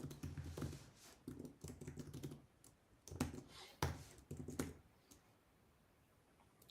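Keys clatter on a computer keyboard in short irregular bursts of typing with brief pauses, close and moderately quiet, with no speech.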